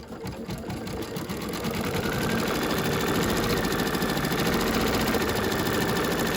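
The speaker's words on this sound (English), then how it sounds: "now we're going to stitch around our little gingerbread man" An embroidery machine stitches out a gingerbread man design with a rapid, steady mechanical needle chatter, close and continuous, building slightly in loudness over several seconds with no talking.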